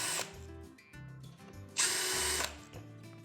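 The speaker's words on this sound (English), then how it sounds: "you're going to pre-drill that" A power drill pre-drills a hole in a cabinet door in several short whirring bursts, with a louder, higher-pitched burst in the middle, all close and without talk.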